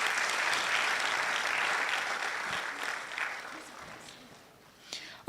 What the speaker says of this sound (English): let's give him a round of applause before he leaves